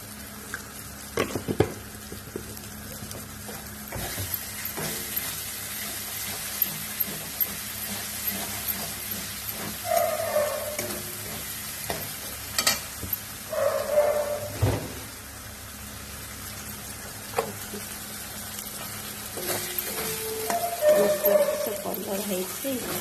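Spices and masala frying in desi ghee in a pan, soft steady sizzle with intermittent stirring scrapes and clatters, fairly quiet, with a voice speaking over it at times.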